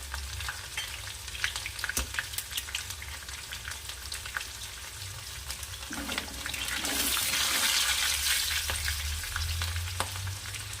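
Chopped onion, curry leaves and green chili fry in a pan with a steady sizzle and crackle, plus occasional stirring clatter; the sizzle swells louder partway through, and there is no speech.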